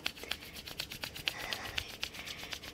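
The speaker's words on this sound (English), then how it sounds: "Rub your palms together." Oiled palms rubbed together during a qigong routine, a close, soft swishing friction in quick regular strokes, steady and alone.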